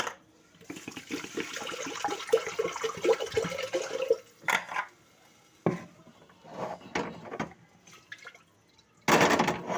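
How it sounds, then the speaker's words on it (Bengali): Water pours and splashes into a pressure cooker holding fried moong dal in irregular bursts, a long stream first, then shorter gushes and drips, ending with a final pour. "দিয়ে তাতে পরিমাণ মতো জল দিবেন"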